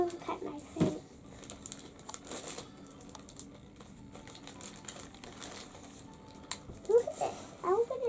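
Plastic wrapping of a McDonald's Happy Meal toy package crinkles and tears in brief bursts at close range, with quieter rustling between, while someone talks excitedly near the end.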